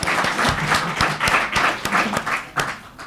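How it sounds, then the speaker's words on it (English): Loud audience applause at a League of Women Voters candidate forum, rhythmic clapping from a nearby crowd with distinct hand claps standing out, slowly thinning as it goes on. "I didn't mean to interrupt the applause."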